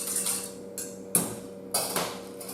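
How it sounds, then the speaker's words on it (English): A utensil stirring citric acid solution into a cosmetic formula in a container, giving a few distinct clinks and scrapes at irregular intervals, close and fairly loud with a faint steady hum behind, no talk. "We stir that through"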